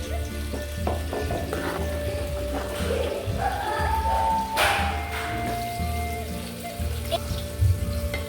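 A sardine curry made with buttermilk simmers in a pan, giving a steady bubbling, crackling hiss with light stirring noises and a faint background hum.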